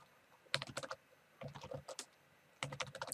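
Bursts of quick keystrokes on a computer keyboard, three short clusters of clicky taps separated by pauses, close and fairly quiet.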